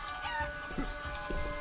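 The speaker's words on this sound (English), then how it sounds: "now I can become a chicken" Cartoonish chicken clucking from the video game Guacamelee, a few short clucks at moderate level over steady game music and background tones.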